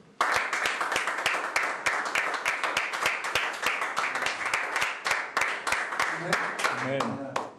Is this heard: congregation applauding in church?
yes